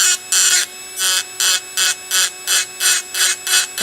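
A tapering acrylic burr grinding a complete denture, a high whining rasp in about ten even pulses as the burr touches and lifts off the acrylic, close and loud with no talk.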